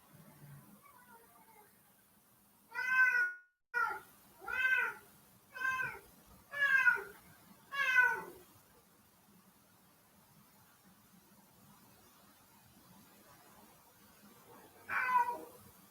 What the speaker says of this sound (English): And that's just my cat, Mike, just wanting to go outside